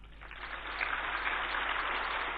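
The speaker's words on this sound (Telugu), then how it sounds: "అందరూ ఒకసారి క్లాప్ చేయండి ఒకసారి." An audience at a spiritual discourse bursts into applause that builds and holds as a dense, even wash of many hands clapping together.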